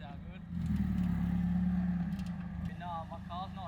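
An overheating Daihatsu Feroza engine labors in soft sand on Fraser Island, a loud, low strained drone that rises for a few seconds and then fades, with voices talking at the end.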